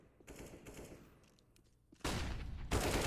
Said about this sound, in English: And the blind flashbang works perfectly, but Kinky just pre-fires as he's blind, taking him down easily